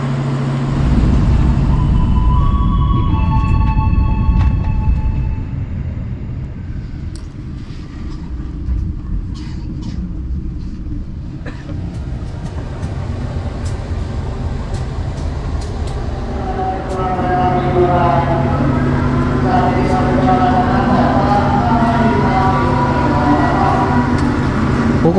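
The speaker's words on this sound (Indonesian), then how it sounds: "kereta api Bengawan sekarang ini sudah tiba di stasiun Kutoarjo" Bengawan passenger train pulling into Kutoarjo station in Purworejo, Central Java at night, a steady low rumble with brake squeal and horn-like tones rising near the end, with voices talking over it.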